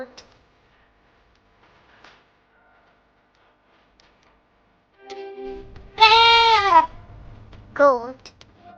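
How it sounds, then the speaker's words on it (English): Farm goat bleating loudly and close, one long wavering bleat followed shortly by a second shorter one, after several seconds of near silence. "Goat."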